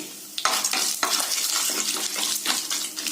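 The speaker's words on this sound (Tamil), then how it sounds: "இதெல்லாம் நல்லா வறுத்துக்கலாங்க இந்த ஆயில்ல" Spices and cashews frying in hot oil in a pan: a constant loud sizzle with a spatula stirring and scraping in quick, irregular strokes, close up and with no voices.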